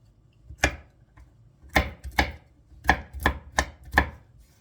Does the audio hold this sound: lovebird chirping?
no